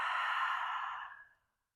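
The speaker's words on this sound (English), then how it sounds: "Exhale through the mouth." A single long exhale through the mouth, soft and breathy, close to the mic and trailing off to silence after about a second and a half during a gentle mountain balance flow.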